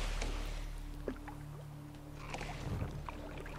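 Pedal boat gliding across a lake in The Witcher 3: Wild Hunt, a steady low watery rumble with soft splashes and a faint swell near the end, heard alone.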